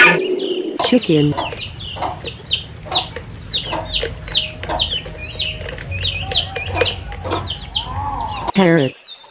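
A chicken clucks in a busy run of short, sharp calls that go on for several seconds, with a rising squawk near the end and some soft background noise.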